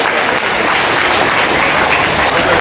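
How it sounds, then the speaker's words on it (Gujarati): Loud applause fills a school prize ceremony for Class 11 students, many hands clapping together in a thick, continuous wash close by for the whole stretch. "એમના માટે એકવાર જોરદાર તાળીઓ થઈ જાય"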